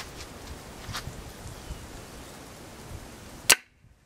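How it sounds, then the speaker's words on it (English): A mini crossbow bolt striking a hard hat: one sharp, loud impact crack near the end, preceded by faint rustling and followed by a quick fade to near silence. "we'll try to shoot it into that hard hat right there"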